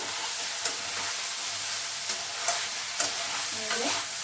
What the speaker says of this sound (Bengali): এই সব সবজিগুলো একটু ভাজা হয়েছে।